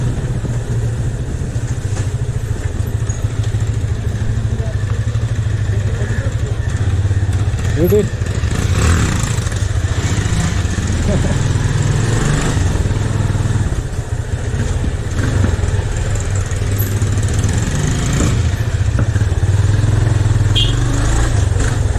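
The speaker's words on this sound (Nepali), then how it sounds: "अब चाहिँ हामीले यहाँबाट बाइक निकाल्यौँ है।" A motorcycle engine runs steadily at close range throughout while riding through a narrow lane in Bhaktapur, a constant low rumble with slight rises in revs.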